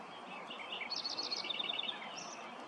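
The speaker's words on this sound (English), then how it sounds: "Birdsong decorated the air." Birds sing in a city river valley at golden hour, with several bright chirping phrases and trills at moderate distance over a soft outdoor hush.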